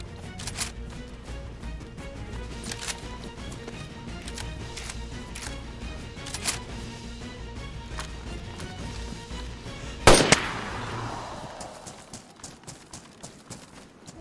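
Gunfire in the video game DayZ: scattered faint cracks, then one sharper, louder shot with a ringing tail near the end, all at low level.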